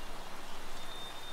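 Steady rain falls in The Flame in the Flood, an even wash of dense patter, close and continuous, with no voices.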